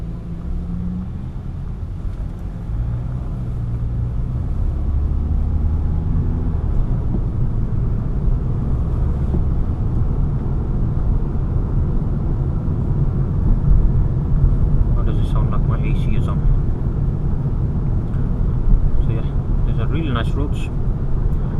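A BMW E60 5 Series with a 2-litre diesel engine pulls away under hard acceleration, a steady low engine drone with road rumble building and holding loud inside the cabin, with a few faint higher clicks near the end.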